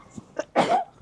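A single close, loud sneeze with a short sharp inhale before the burst, alone with no talk.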